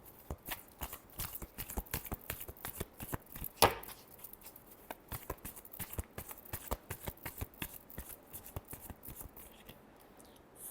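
Tarot cards are shuffled by hand in a steady run of crisp, close riffling taps and flicks, quiet and continuous with one sharper snap near the start, with no talking.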